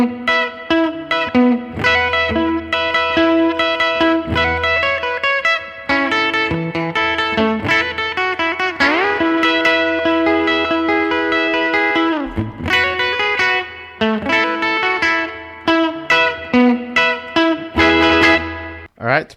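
Electric guitar with heavy reverb and effects plays the outro of a surf instrumental, with bright picked lines, ringing double stops and a pitch slide near the middle, loud and continuous.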